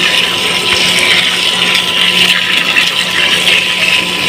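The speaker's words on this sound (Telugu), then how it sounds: "ఇదిగోండి చూడండి మొక్కలకి నీళ్ళు ఎలా పెడుతున్నాను" Water pours onto plants into dug basins around trees, a steady close rushing splash that runs unbroken from start to finish with no voices.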